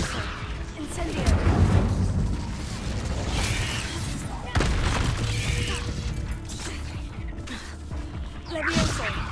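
An Incendio fire spell is cast during spell combat in Hogwarts Legacy, loud and dense, with bursts of crackling, booming impacts and mechanical clatter layered together, swelling and fading over several seconds.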